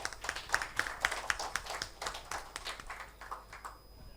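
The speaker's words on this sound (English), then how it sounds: "Can we welcome them with a big round of applause?" Scattered applause at an AI conference in Kolkata as panelists are welcomed; faint, uneven clapping from a modest crowd, starting with a few distinct claps and thinning out toward the end.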